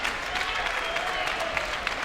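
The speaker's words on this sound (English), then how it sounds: "Crowd here in the impact zone, trying to cheer on the champ" A wrestling crowd in the Impact Zone cheers and claps for the champion during the Abyss vs. Christian Cage match at Lockdown 2006, a dense, steady wash of applause and crowd noise filling the arena.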